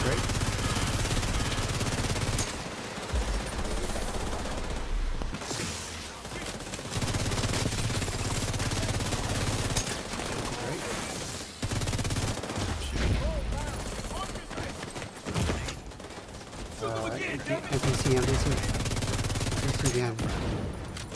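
Rapid video-game gunfire rattles in dense, continuous bursts through nearly the whole stretch, with brief lulls, layered under loud music and effects while players talk over it.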